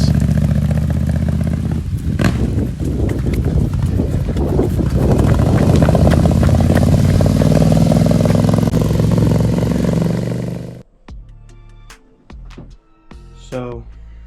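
A rebuilt, previously wrecked motorcycle on its first test ride gives a loud, steady engine roar with clatter for about ten seconds, then cuts out abruptly into quieter scattered sounds and brief tones.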